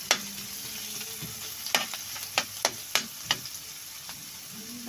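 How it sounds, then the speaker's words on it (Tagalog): Garlic, onion and ginger sautéing in a pan, with a steady close sizzle broken by a series of clacks and scrapes from a stirring utensil. "Bawang, sibuyas, luya, gigisa lang."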